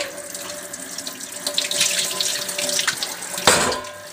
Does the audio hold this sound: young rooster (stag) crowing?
no